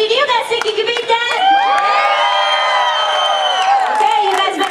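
Children in a live show audience cheer and shout loudly together, a dense mass of high whooping voices swelling and holding for several seconds before easing off.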